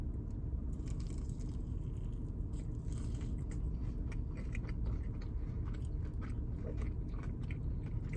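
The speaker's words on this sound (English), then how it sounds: "Let's see if I can get a good crunch here." Close, crunchy bites and steady chewing of Hardee's fried chicken tenders, a dense run of crisp crackles and mouth sounds over low background noise, with no talking.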